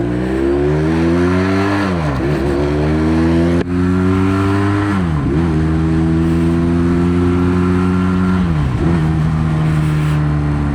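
A Jiangmen Nav 500 naked motorcycle accelerates hard, its engine note climbing steadily, dropping at each of three gear shifts, then rising again, loud and close throughout.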